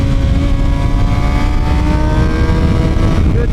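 Suzuki GSX-R 750 with a Yoshimura R77 full exhaust and Moore Mafia tune, rolling on in third gear: a loud, steady engine note rising smoothly in pitch under hard acceleration, with no speech.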